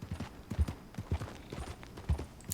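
Horse hooves clip-clopping in Red Dead Redemption 2, a steady trotting rhythm of close, moderately loud hoofbeats.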